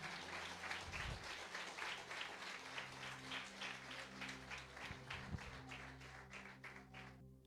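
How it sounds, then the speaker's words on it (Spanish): Congregation applauding for Christ during a church service, a rhythmic, steady round of clapping from a crowd heard at some distance and fairly faint, with a low hum beneath, ending abruptly. "Dale un fuerte aplauso a Cristo."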